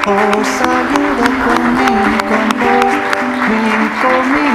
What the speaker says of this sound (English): A big round of applause to those amazing